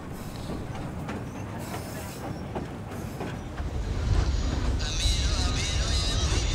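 A train runs on the late-19th-century Myanmar railway to Mandalay, built to carry silver from northern mines. It gives a steady rolling rumble with wheel clatter and rail squeal that grows louder and denser toward the end.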